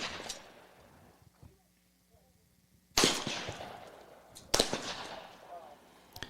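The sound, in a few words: shotgun shots at trap shooting range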